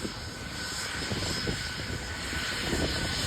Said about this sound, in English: Look at that, it's gonna take off.